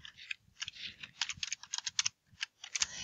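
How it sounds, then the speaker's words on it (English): Fingers type quickly on a computer keyboard at close range, a quiet, irregular patter of soft key clicks with short pauses between bursts and no voices. "you're simply going to type right in the document"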